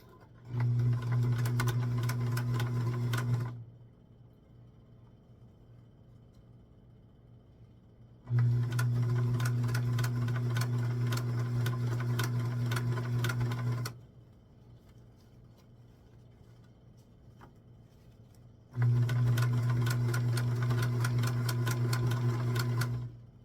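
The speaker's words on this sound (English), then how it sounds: "So I'm putting it on a zigzag. On my machine, it's a 6." A sewing machine runs a zigzag stitch along the skirt of a small doll dress in three steady bursts of several seconds each, separated by quiet pauses, close and clear with no talking.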